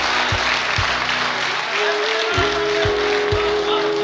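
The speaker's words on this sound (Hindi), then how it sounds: "जोरदार तालियों से इस्तकबाल किया रहा है अब्बास कमर का" An audience at a poetry gathering claps to welcome a poet, the applause dense and steady, with a low musical drone and a few soft thumps underneath.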